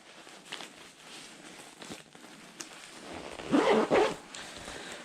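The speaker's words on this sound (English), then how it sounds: "So as it stands right now, you zip the inner layers." A zipper runs on a Jet jacket with a left-handed zip: a few short scrapes, then a louder, closer pull lasting about a second, with cloth rustling around it.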